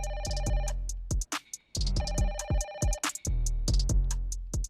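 A mobile phone ringtone plays loudly and close in a Telugu film scene, a bright melodic tune repeating its short phrase several times with brief gaps and no talking over it.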